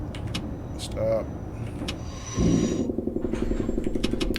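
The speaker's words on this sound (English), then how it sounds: "Oh, you opened the door." Subway train doors open in the World of Subways 4 simulator: soft clicks and beeps come first, then a louder, steady rattling, whirring door mechanism runs for the last two seconds, close and clear.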